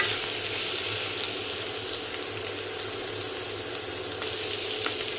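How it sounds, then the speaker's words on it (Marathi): Mixed vegetables sautéing in a pan for a quick healthy snack, a dense continuous sizzle and fry close by, steady and unbroken, with no talking. "आणि या भाज्यांना थोडंसं आता आपण एक 5 मिनिटं सॉटे करून घेऊया।"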